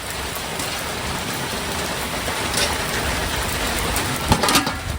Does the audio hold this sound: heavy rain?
yes